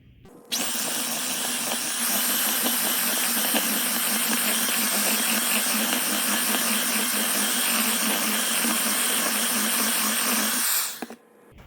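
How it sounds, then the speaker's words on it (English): An electric mixer blends banana bread batter, running as a steady, fairly loud whir for about ten seconds, then switching off, with no talking. "now we're going to go ahead and use that mixer again to go ahead and mix it all together"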